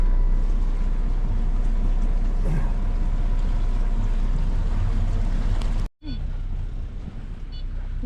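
A recreational boat cruises under engine power at the start of an America's Great Loop trip, a loud, constant engine drone with water and wind rush that cuts out briefly before resuming.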